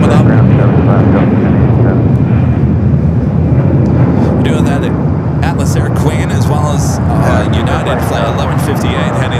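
Boeing 777-200ER airliner departing Los Angeles bound for Honolulu, a loud sustained jet engine roar that fills the whole clip, with a voice talking over it throughout.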